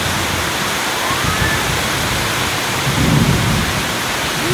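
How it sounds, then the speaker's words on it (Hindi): Very heavy rain pours in a dense, loud, unbroken roar, with low thunder rumbling through it and swelling briefly toward the end. "आप देख सकते हैं कितना तेज बारिश है"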